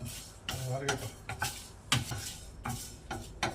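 Star anise, cinnamon, cloves and cardamom dry roasting in a pan, heard as a series of close scraping and rattling stirs with brief pauses between strokes, no voice over them.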